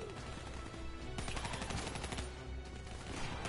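Rapid video-game gunfire from Call of Duty: Black Ops 3 on PS4, dense bursts of automatic shots crackling continuously and loudly across the whole stretch, layered with battle noise and no clear talk.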